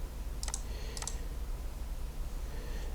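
Typing on a computer keyboard: two quick pairs of key clicks sound faintly against a steady low background hum.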